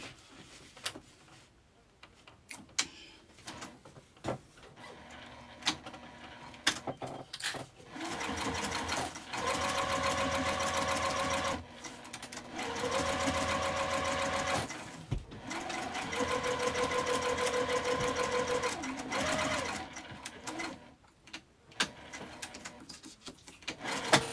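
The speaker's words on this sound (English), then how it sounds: "I'm going to stitch down the sides to baste this together" A sewing machine runs in several bursts while stitching down the sides of a tote bag, with a steady mechanical whir and tick. Quiet pauses and handling noises come between the runs.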